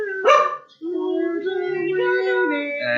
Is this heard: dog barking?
yes